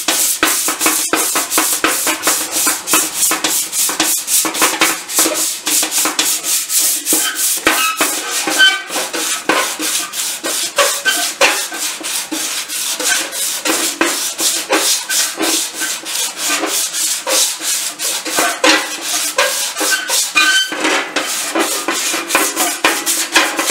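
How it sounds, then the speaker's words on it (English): Sanding down welds on a metal body part for a Triumph 500 Otter, a rapid, close, continuous rasping scrub in quick repeated strokes with no talk. "let me sand these down and get planishing"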